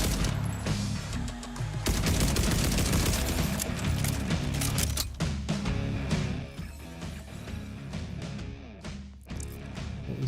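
SMG fire in Borderlands 4 rattles in dense, rapid bursts with sharp impacts and booms layered over one another, loud and nearly continuous with a few brief gaps.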